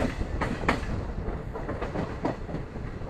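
Kannur–Ernakulam Intercity Express rolls along near the Mahi River, a steady rumbling ride with rhythmic wheel clatter heard from on board.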